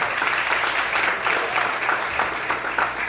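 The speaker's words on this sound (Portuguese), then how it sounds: "Você pode aplaudir o Senhor essa noite." Church congregation applauding during a Portuguese-language evening service, a dense, steady wash of clapping that fills the space for a few seconds, fairly loud and close, with no talk over it.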